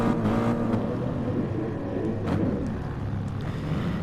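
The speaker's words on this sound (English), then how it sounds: "See the revs rise." A GT3 race car engine in a racing video game drones steadily and fairly loud during a rolling start at Brands Hatch, its revs edging upward with no one talking.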